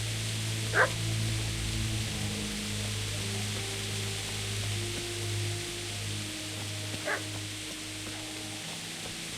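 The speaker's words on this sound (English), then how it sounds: "Get away, you mutt! Get away, you beast!" Two short dog barks in the Kingdom Come: Deliverance video game, one near the start and one around seven seconds, set against steady low ambient drones and tones.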